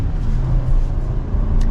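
A 2023 Ram Laramie 1500 Crew Cab 4x4 pickup cruising on the road, with a steady low engine and road rumble heard from inside the cab, continuous and fairly loud, no talking.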